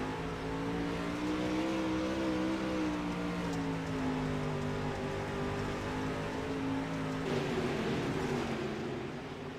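Race cars in the iRacing video game at Charlotte accelerate together as a pack, a dense, loud engine drone with overlapping rising tones that climb steadily, then shift pitch near the end as the field gives chase.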